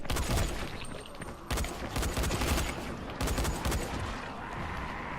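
Rapid bursts of gunfire in the video game Dying Light, loud and dense, coming in several clusters over a few seconds with no voices heard.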